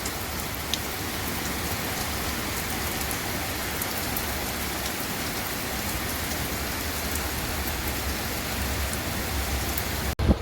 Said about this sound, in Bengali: বাইরে এখন ভালোই বৃষ্টি পড়ছে